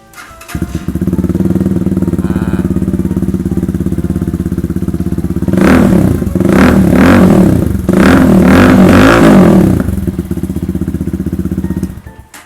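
A GPX Demon GR200R two-valve motorcycle with 13,000 km on it idles loudly close by, then its exhaust roars through a series of sharp revs before settling back to a steady idle.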